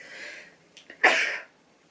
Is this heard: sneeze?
yes